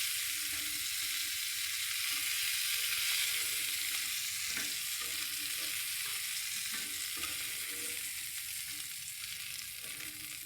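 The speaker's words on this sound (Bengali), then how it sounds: "এরকম আমার মাছ ভাজা হয়ে গেছে" Fish frying in oil in a pan, a continuous close hiss and sizzle with occasional sharper pops and crackles, steady throughout and free of voices.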